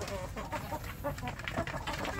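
Free-range village chickens that have started laying, clucking close by in a farmyard, a busy overlapping jumble of low clucks and calls with some wing flapping in the mix.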